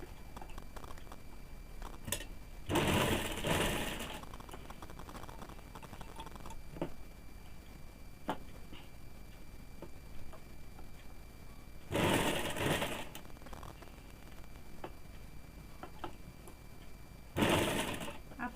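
Sewing machine stitching the shoulder seam of a woolen baby frock, running in three loud bursts of rapid whirring stitches separated by quiet pauses with faint handling clicks.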